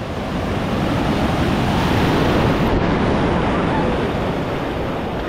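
Surf rolls in heavily onto Kata Beach in Phuket, a loud, continuous wash of breaking waves mixed with wind buffeting the microphone.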